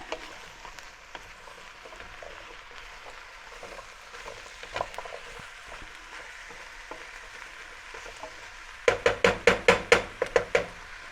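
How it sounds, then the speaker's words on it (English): Vegetables for carrot and coriander soup sweating in oil in a pan: a soft, steady sizzle runs throughout, then a quick series of sharp knocks or taps near the end. "make sure that it's all coated in oil and it's going to sweat away"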